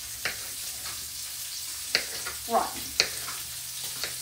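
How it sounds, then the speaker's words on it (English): Bacon keeps sizzling in a pan with a soft constant fry beneath occasional utensil clicks and stirring scrapes, while a person briefly speaks. "I've got my bacon still cooking over here"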